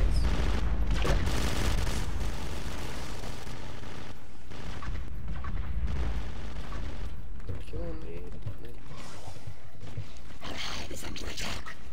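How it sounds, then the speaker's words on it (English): Heavy machine gun fire in the video game The Division 2 during a competitive scrim, with bursts of rapid shots and booming impacts running continuously under players' talk. "Machine gun. That's what that is."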